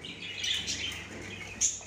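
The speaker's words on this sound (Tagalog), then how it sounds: "Daming pigeon dre." Pigeons and other birds calling outdoors in Al Wakra, Qatar, with faint chirps and a couple of sharper high calls over a quiet background, fairly distant and soft.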